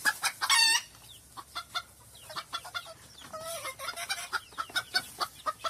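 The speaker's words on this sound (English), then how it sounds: "it's a chicken." A chicken clucks in short bursts and a rooster gives a brief crow at the start, with scattered clucks continuing at moderate volume.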